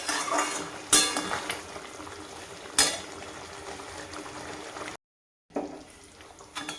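Fried fish pieces for chilli fish land in a pan and are stirred, giving two sharp clinks of utensils on metal over a soft continuous sizzle, with a brief gap of silence.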